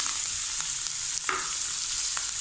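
Okra, onion and green chili fry in a pan with asafoetida, a steady close sizzle broken by a few short scraping stirs of a spoon.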